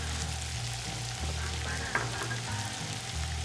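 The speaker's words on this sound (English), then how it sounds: "I'm going to add the onions to that beautiful butter." Onions fry in butter in a pan with a steady, close sizzle that holds evenly throughout, broken only by a brief soft clack near the middle.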